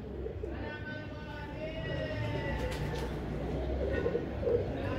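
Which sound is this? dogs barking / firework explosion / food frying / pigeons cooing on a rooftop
pigeons cooing on a rooftop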